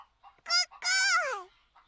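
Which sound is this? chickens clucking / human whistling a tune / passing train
chickens clucking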